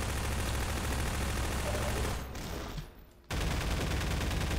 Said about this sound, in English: Maybe the shotgun with the double blast?